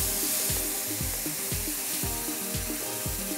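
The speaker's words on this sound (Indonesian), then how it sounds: "kita akan goreng bumbunya sampai dia wangi." Spice paste for Padang-style ayam kalio frying in hot oil, a steady close sizzle with rhythmic scraping or stirring strokes repeating about every half second, no talking.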